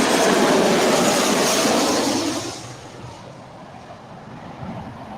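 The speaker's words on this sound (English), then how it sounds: "737-800 Southwest." A Southwest Boeing 737-800 at LAX passing close by, a loud broad roar for a couple of seconds that then drops away to a quieter rumble.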